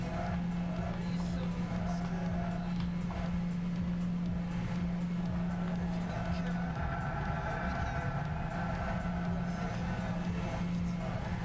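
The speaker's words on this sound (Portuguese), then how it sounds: "Que barulho estranho no motor desse carro." A race car's engine in the PlayStation 3 racing game Gran Turismo 6, heard from the in-car view as a steady, droning hum with a strained, unusual tone that holds at a constant moderate level throughout.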